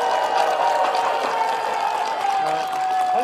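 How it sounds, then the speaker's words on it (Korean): Crowd applause welcomes speakers at a public protest declaration in Korea, a steady wash of clapping beneath a voice and some tonal background sound. "큰 박수로 모시겠습니다"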